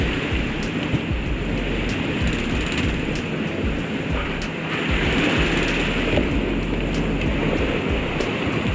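Ocean waves and heavy swells wash against a sailboat under autopilot on a rough passage to St Lucia, a loud, continuous rushing roar of water and wind with a faint regular ticking through it.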